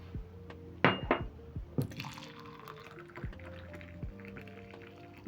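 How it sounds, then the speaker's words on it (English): Hot rosemary chai poured from a vacuum flask into a cup, a few liquid splashes and drips followed by a steady trickling fill, close and fairly quiet. "Pour myself some."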